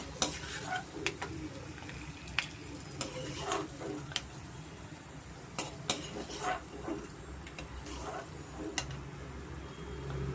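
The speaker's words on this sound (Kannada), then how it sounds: "ಇದೇ ಬಿಸಿ ಎಣ್ಣೆಗೆ ಕಾದಿರೋ ಎಣ್ಣೆಗೆ ನಾವು ಕಡಲೆಬೇಳೆ ಸಾಸಿವೆ ಉದ್ದಿನಬೇಳೆನ ಸೇರಿಸ್ಕೋಣ" Chana dal, mustard seeds and urad dal fry in hot oil for a tempering, giving a low steady sizzle broken by repeated stirring scrapes and light clinks of a spoon against the pan.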